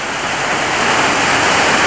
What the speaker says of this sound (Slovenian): Najlepši slovenski slap.